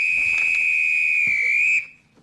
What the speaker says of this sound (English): Now, the next time you hear this whistle,